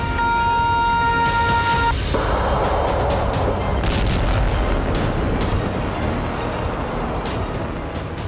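A Russian Yars missile launched in a test: a loud, sustained roaring rumble that swells in after a brief steady tone and holds as a dense blast through to the end, with no voices.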